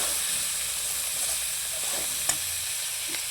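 Potatoes fry in a pan with a steady, loud sizzle and hiss, joined by slit green chillies. A spatula stirs them now and then with a couple of soft knocks, and no one speaks.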